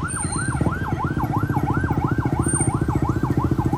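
Ambulance siren in busy city traffic in Tagbilaran City on Bohol Island, a loud, close wailing tone sweeping up and down steadily and repeatedly over a rumbling engine.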